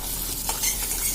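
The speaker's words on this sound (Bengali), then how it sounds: "এবার আমি আলুগুলোকে ভেজে নিচ্ছি। মিডিয়াম আঁচে আমি রান্নাটা করছি।" Potatoes frying over medium heat in a pan while cooking moong dal with hilsa fish head, giving a soft steady sizzle with light stirring and a faint utensil scrape, close and fairly quiet.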